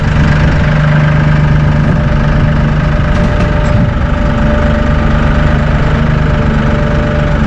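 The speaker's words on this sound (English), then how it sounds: "we're at idle speed and we lifted the front end off the ground" A Massey Ferguson 1M.35 or 1M.40 eHydrostat compact tractor idles with its front end lifted off the ground, a loud, steady, close diesel drone that holds constant throughout with no talk.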